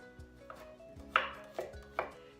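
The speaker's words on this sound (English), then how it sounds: "So now we have 2 shallots chopped, and we're going to mince 2 cloves of garlic." Knife chopping shallots and garlic on a cutting board in a home kitchen, a few sharp, close taps spaced irregularly over a quiet background, no voices.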